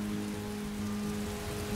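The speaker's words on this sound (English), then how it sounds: "Why is it always raining?" Steady rainfall in the video game Skyrim, a continuous even hiss of falling rain with a faint tonal drone beneath, soft and unbroken throughout.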